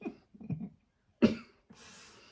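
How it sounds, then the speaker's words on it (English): A person coughing, a few short muffled coughs followed by one sharper hacking cough and then some breathy noise, close and fairly quiet. "Please don't start the coughing again."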